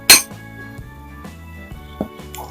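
A glass and spoon clink while a lime and honey drink is made, one sharp bright clink at the start followed by a few softer, scattered knocks.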